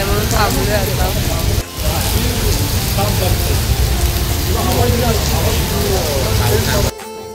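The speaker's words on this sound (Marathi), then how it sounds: "पाऊस सुरू झाला आणि ते पण जोरात सुरू झाला" Heavy rain pours steadily in a residential area near Raigad, a dense continuous wash of drops under faint background voices, briefly dipping once before a sharp cut near the end.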